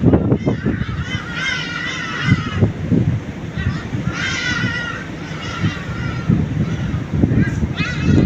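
Wild ducks honk repeatedly outdoors, loud and close, in a series of nasal, harsh calls, while someone talks over them.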